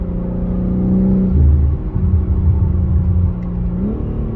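A 2022 BMW M3 Competition xDrive engine revs up loud and close, its deep drone climbing in pitch, then dropping abruptly through quick gear shifts before building again.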